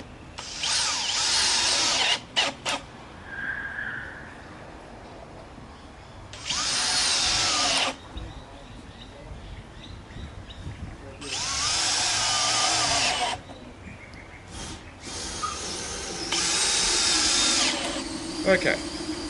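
A power drill drives screws into a wooden window frame for a 70mm cabin kit with no pre-drilling: three separate loud whirring bursts of a second or two each, with quieter handling noises and speech between them.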